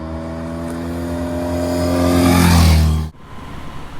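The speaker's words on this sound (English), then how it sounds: "Kind of just roll out of a corner, roll on the throttle, and it'll slowly crawl up to speed." A 1970s BMW R60/6 motorcycle rolls on the throttle out of a corner, its engine drone climbing steadily and growing louder before abruptly dropping away, leaving faint wind and road noise.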